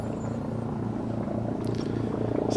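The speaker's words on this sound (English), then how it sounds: "So helicopter comes towards us, Jimmy." Helicopter approaching over a lawn bowls green during a men's championship match, a steady low rotor drone that swells slightly as it nears, with no talk over it.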